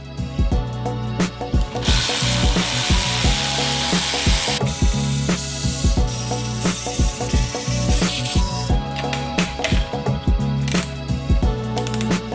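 A power tool works on the clutch pressure plate bolts of a Porsche 911, a loud rapid ratcheting rattle of impacts with stretches of high whirring, continuing close and steady throughout.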